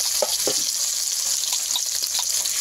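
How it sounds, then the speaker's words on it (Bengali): Beaten egg pieces frying over low heat in a pan give a steady, bright sizzle throughout, with a few soft spatters and stirring clicks close up. "ডিমটা ভাজার সময় একটু হালকা আঁচ দিতে হবে। আমি একসঙ্গে সবগুলো দেবো না, দুবার ধরে ভেজে নেব।"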